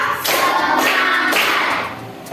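Students in a classroom clap in unison as part of a counted clapping routine, with several sharp, close bursts spaced evenly about half a second apart.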